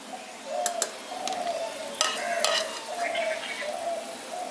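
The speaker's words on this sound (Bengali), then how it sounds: "এটাকেও হালকা করে ভেজে নিচ্ছি।" Raisins lightly frying in a pan for flattened rice payesh, with a soft sizzle under repeated metallic stirring scrapes and taps from a spoon against the pan.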